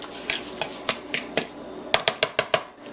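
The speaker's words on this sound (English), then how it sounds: "Stir that around a little bit." Green bean casserole stirred in a dish, a dairy-free version, with a spoon knocking the dish in a series of sharp clacks that come closer together toward the end, close and moderately loud.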